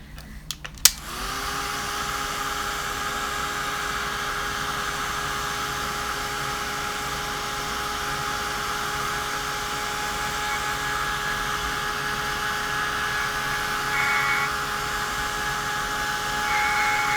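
A hair dryer blows steadily on wet watercolour paint for a water-stained inky background, a loud continuous whooshing drone that begins after a brief click and runs unbroken to the end with no talk.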